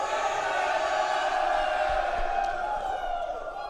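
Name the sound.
waiting crowd at ESL One Bangkok grand finals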